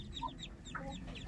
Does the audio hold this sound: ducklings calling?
yes